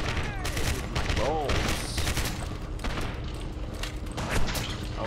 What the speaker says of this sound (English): I wanna take someone out with my grenade.